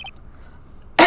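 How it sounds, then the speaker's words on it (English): A single short throat-clearing sound effect from the Phoenix Wright: Ace Attorney video game bursts out loud and close at the very end, after near silence. "Maybe I should clear my throat."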